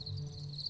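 Domestic crickets, some five thousand kept densely together on a cricket farm, produce a steady high chirping drone with a low hum underneath, faint and continuous with no talk.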